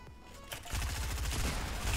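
Rapid automatic gunfire in Fortnite: Battle Royale erupts after a brief quiet lead-in, a dense, loud stream of fast shots that continues to the end.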